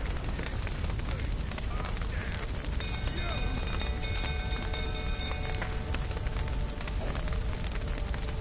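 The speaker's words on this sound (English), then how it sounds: "Looks like rain." Rain falling in The Witcher 3, a steady close hiss of drops that runs unbroken for over eight seconds, with faint sustained tones rising briefly in the middle.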